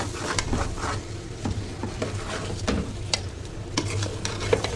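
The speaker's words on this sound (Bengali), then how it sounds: "খুবই সাবধানে নাড়াচাড়া করছি, কারণ ডিম খুলে যাওয়ার সম্ভাবনা আছে," Fried eggs being stirred gently in a pan, giving soft scraping strokes and light taps under a faint sizzle, with no talk.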